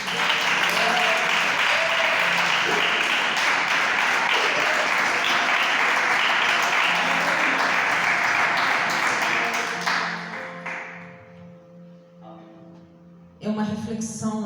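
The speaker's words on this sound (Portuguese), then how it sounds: "Palmas para o nome do Senhor Jesus." A church congregation bursts into sustained, dense applause that fills the room for about ten seconds, then fades to scattered clapping before music or voices return at the end.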